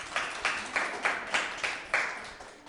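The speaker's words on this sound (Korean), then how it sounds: "박영환 감독님 다시 한번 박수 한번 부탁드리겠습니다" An audience at a film screening applauds director Park Young-hwan with six evenly spaced, crisp claps in a steady rhythm, fairly soft in a quiet room.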